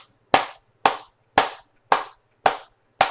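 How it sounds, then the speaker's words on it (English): Applause at a Super Bowl-winning quarterback's press event comes through as six sharp, evenly spaced claps about half a second apart, fairly close and alone, with no voices. "I want to give a special round of applause"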